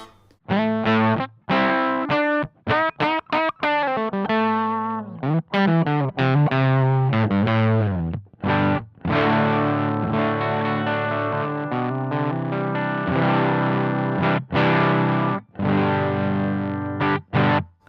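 Electric guitar through a Love Pedal English Woman overdrive pedal, gain at 3 o'clock, plays choppy chords and runs, a moderately gritty, saturated tone with gaps between phrases, no talking.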